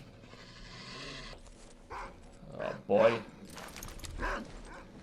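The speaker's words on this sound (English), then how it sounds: "Oh, come on, you stupid dogs." Mutant dogs in the game S.T.A.L.K.E.R. yelp and bark in short bursts among footsteps and gunfire-like thuds, moderately close, with someone speaking briefly over them.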